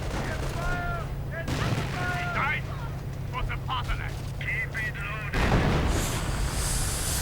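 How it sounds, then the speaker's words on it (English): Artillery fire rumbles in a real-time strategy game, a low continuous barrage of booms running under voices and bursts of other battle effects, and it swells louder in the final seconds. "And artillery on the packs, just in case."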